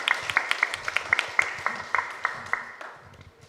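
Audience applause greets a guest at a health workshop, with a run of distinct claps in an irregular rhythm over a murmuring room that gradually fades out.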